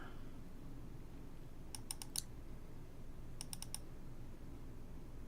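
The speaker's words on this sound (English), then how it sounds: "Sorry for the loud clicking." Loud, close computer keyboard and mouse clicking sounds in two quick bursts of about four or five sharp clicks each, separated by a pause, over a faint steady background hiss with no talking.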